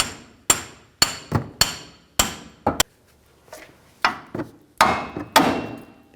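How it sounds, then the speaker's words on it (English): Hammer blows on a pickle fork wedged between the upper ball joint and steering knuckle of a 2002-2006 Chevy Avalanche, about a dozen sharp metallic strikes in uneven bursts, close and loud. "We're just going to use a pickle fork."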